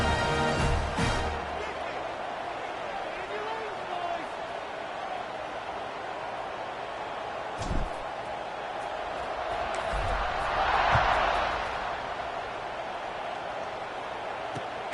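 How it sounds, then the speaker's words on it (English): College football stadium crowd before a kickoff, a sustained roar with faint cheering that swells briefly near the end, partly under a commentator's voice. "this crowd now ready to get behind them"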